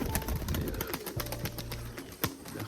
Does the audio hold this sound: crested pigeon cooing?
yes